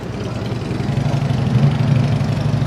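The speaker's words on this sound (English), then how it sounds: "This little 6-cylinder Camaro." Six-cylinder engine of an old base-model Chevrolet Camaro idling at a cruise night, a steady, loud low rumble that swells slightly and carries on without breaks.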